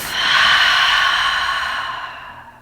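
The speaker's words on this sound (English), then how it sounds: "exhale from the mouth." A long, slow breath out through the mouth during yoga breathing, a soft airy whoosh that swells quickly and then fades gradually over a couple of seconds, close and alone.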